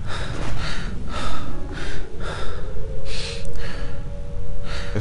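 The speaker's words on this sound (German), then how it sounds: "Man hört die ganze Zeit das Atmen des Mannes, den wir gerade spielen." Exhausted player character in the horror video game HIDE breathing heavily, loud close gasps and rasping inhales and exhales in a steady rhythm, with a faint low tone rising underneath.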